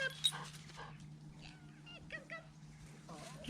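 A puppy whimpers and whines in short, faint bursts during a dog training session, over a steady low hum, with a person's voice murmuring nearby.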